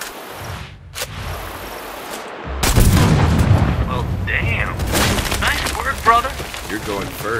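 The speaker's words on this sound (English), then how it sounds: "Use the explosive bullets." Explosive sniper rounds fired in Sniper Ghost Warrior 3, a sudden loud burst at about two and a half seconds followed by sustained rumbling blast debris, with a quieter earlier crack and game voices talking over the tail.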